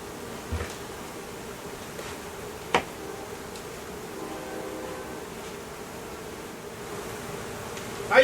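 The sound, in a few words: honeybees buzzing around a makeshift shed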